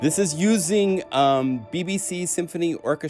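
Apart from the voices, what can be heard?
No distinct noise like a dog, phone or traffic.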